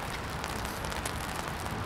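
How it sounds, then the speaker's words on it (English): Rain falls outdoors as a dense, steady hiss of drops patters on surfaces nearby. It stays fairly loud and even throughout, with no voices. "It's raining out here, y'all."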